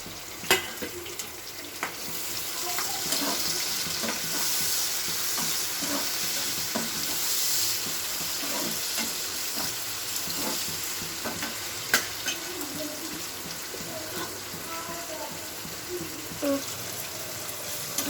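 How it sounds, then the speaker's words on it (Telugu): Tomato and onion sizzle and fry steadily in a pan for Telangana-style fish curry, with a spoon stirring and mashing through the pieces in scattered soft clinks and scrapes, close and continuous, with no talking. "ఇలా కొంచెం మెదిపేసుకుంటే కొంచెం ఫాస్ట్గా మెత్తగా అయిపోతుంది"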